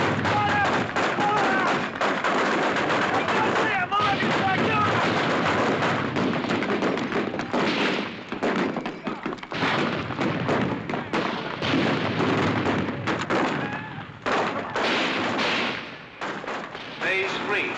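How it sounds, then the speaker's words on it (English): Mortar rounds fall during an infantry platoon's advance on a town, a string of heavy thumps and blasts in irregular bursts with a narrator speaking over them. "who have called in opposing mortar fire"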